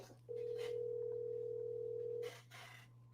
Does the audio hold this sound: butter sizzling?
no